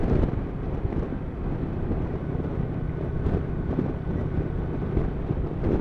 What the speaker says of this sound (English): apart from the fact that the wind's blowing a gale